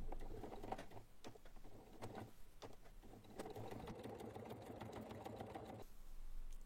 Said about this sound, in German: so passt das auch besser unter die Nähmaschine